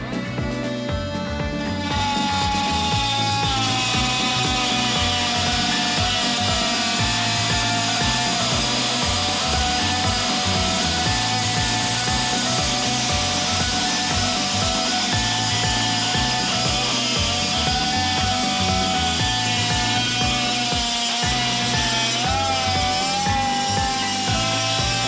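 A multi-tool with a carbide blade at speed setting 4 cuts through 19 mm pipe, buzzing loudly and continuously at close range with a steady, ringing vibration.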